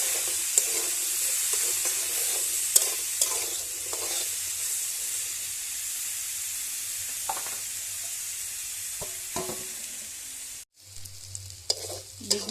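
Eggplant slices fry in oil in a wok, a steady close sizzle and hiss with occasional scraping stirs that stops abruptly near the end and then resumes more faintly.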